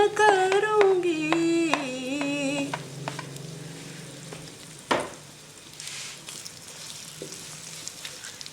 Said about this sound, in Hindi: गरम तेल में स्लाइस प्याज डाल रही हूँ मैं अब तो, आपके सामने ही ब्राउन करूँगी।